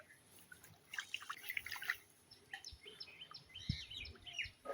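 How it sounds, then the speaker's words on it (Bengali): Birds calling outdoors near a grassy spot by a river, with scattered chirps and short tweets recurring through the clip, moderately faint over soft ambient noise, plus a few dripping or tapping sounds. "ও ওই পাখি ডাকছে"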